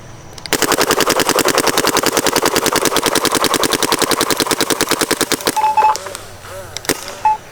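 Rapid-fire shots from a DLX Luxe Idol paintball marker loaded with brittle paint, a steady fast train of sharp pops lasting about five seconds, then stopping, followed by a few faint clicks and handling noises.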